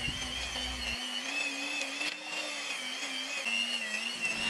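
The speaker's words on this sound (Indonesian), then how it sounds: "kalau menggunakan hand mixer kayak gini jangan dipaksa ya teman-teman" An electric hand mixer kneads red velvet bomboloni dough with butter and salt, holding a steady, faint motor whine with a low hum and slight pitch wobble as the beaters work through the dough.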